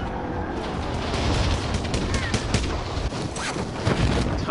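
Shotgun firing in a PS4 video game, a dense barrage of loud blasts and booming shots overlapping in quick succession, with faint voices mixed in.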